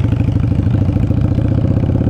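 A Yamaha Virago 535 motorcycle with a well-tuned carburetor idles close by, its engine throbbing in a steady, even pulse that stays loud throughout with no voices over it.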